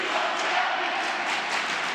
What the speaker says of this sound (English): the usual Jablonski cheer coming from the Red Knights